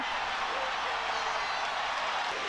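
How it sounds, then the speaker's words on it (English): Portland Trail Blazers fans in a basketball arena chanting a player's name, a dense, steady roar of crowd voices filling the whole stretch, distant and unbroken. "These are Portland Trailblazers fans that are chanting his name."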